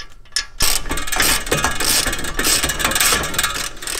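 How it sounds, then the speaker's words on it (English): New bolts are tightened on the hub assembly of an abandoned BMW E36, giving a close, busy run of rapid ratcheting clicks and metallic knocks, with brief pauses in the ratcheting. "then we've got the nice new hardware just to tighten up"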